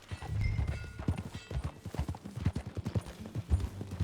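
Horse hooves clip-clop at a steady riding gait in the video game Red Dead Redemption 2, a close, rhythmic series of distinct thuds continuing throughout with little else over them.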